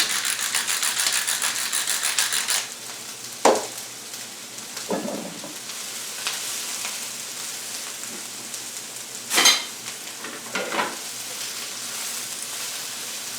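Chicken and cabbage stir-frying in a pan make a steady sizzle that drops away after a few seconds, then returns as brief bursts of clatter and hissing.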